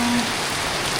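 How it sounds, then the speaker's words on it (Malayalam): Heavy, continuous morning downpour, a steady dense hiss of rain on surfaces with no one speaking. "അതായത് നല്ല സൂപ്പർ മഴയാ"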